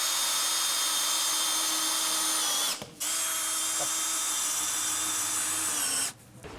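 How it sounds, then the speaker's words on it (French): Power drill or driver screwing a board onto a post while assembling aluminium joinery, a steady loud whine running continuously with two brief stops where the motor cuts out and restarts. "on visse notre planche au poteau"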